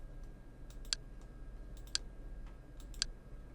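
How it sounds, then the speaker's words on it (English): Calculator app button clicks, three short sharp taps evenly spaced about a second apart, faint over a low steady hum, no voices. "You can also choose to just have it sound like a button click."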